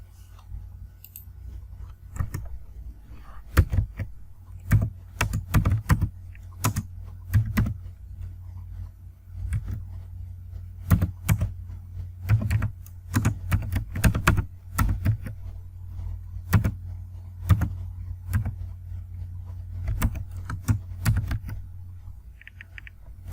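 Close keystrokes on a computer keyboard while typing HTML code, coming in irregular clusters and single taps with short gaps between them, clear and dry against a quiet room with no talking.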